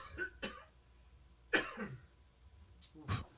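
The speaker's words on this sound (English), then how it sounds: "I don't like that cough." A person coughs several times in short, separate bursts with quiet gaps between, fairly close and low in level, one sounding like a throat clear.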